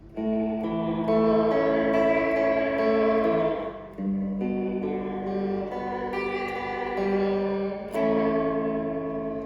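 Electric guitar played through a Fender Reflecting Pool delay and reverb pedal with weight and depth turned fully clockwise, sustained chords blooming into a loud, dense wash of echoing repeats that swell and overlap, briefly dipping before ringing on.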